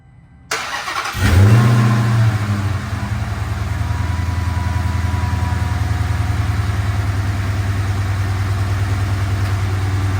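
A 2022 Dodge Charger SRT Hellcat Jailbreak V8 cranks and fires up after an oil change, flaring loudly before settling into a steady, deep, rumbling idle that runs on close by.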